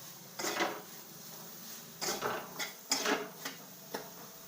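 Soybeans stirred in a pan with a spoon over low heat, giving a few separate clinks and scrapes in short bursts, moderately close against quiet background hiss.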